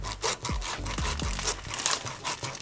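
A bread knife saws back and forth through a pumpkin with rough, rhythmic rasping strokes, loud and close, continuous for the whole stretch with no voices.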